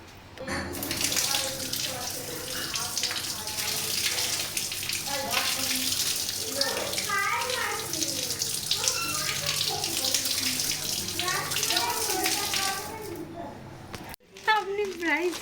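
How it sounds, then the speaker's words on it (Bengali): Tap water runs steadily into a sink while red alta dye is washed off, a continuous close splashing rush that stops abruptly near the end, with someone talking over it. "এবার আলতাটাকে জাস্ট একটু ধুয়ে দেবো"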